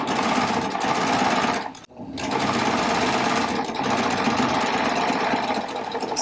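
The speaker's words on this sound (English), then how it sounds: "And I'm just going to sew." A Baby Lock Triumph serger runs a 3-thread narrow overlock stitch on flannel test squares, a fast, steady, close mechanical whir that dips into a short pause before resuming.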